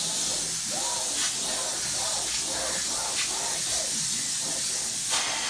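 A low-moisture upholstery extraction tool hisses steadily as it draws dirt from fabric, a constant airy suction with faint rhythmic strokes and small bumps throughout, fairly quiet and without talk.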